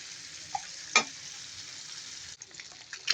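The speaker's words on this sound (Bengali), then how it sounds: "পেঁয়াজ দিয়ে দিলাম। পেঁয়াজগুলো হালকা ভাজবো" Onions and potatoes fry lightly in a pan, a soft continuous hiss of oil with a few faint clicks and stirring scrapes, quiet and close, with no talking.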